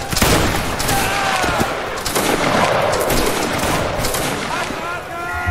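A Saxon fusilier line fires a musket volley in a Napoleonic line-battle game, loud ragged gunfire cracking in a rapid cluster, then scattered shots, with voices talking underneath.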